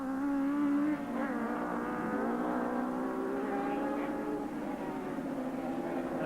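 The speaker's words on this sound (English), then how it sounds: "The four-stroke having more grunt out of the slower corners, like right here" A four-stroke racing motorcycle at a 1986 Oran Park road race pulls hard out of a slow corner, a loud rasping engine note that rises in pitch as it accelerates away.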